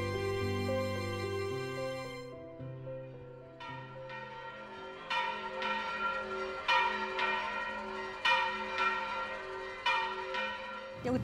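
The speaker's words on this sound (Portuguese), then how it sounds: "eu ouvia o sino da matriz tocando as 6 badaladas" Church bells ring in São João del Rei, likely the main parish church's bell striking six; a low sustained hum gives way to repeated bright, resonant strokes at an uneven rhythm, ringing out and overlapping, with no voices.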